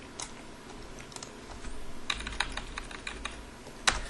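Keystrokes on a computer keyboard tap out in a quick, uneven run, with a few sharper clicks standing out, fairly close and moderately quiet over a soft background hum.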